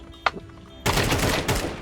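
A sharp single shot, then a loud, sustained burst of rapid gunfire crackling close up from weapons in a video game.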